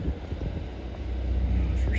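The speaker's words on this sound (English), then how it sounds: "there is an RV over here and they got their engine running, which is some of the background noise you hear" A parked RV's engine idles nearby at Conneaut Harbor on Lake Erie, a steady low rumble with a windy, breathy hiss over it and no pauses.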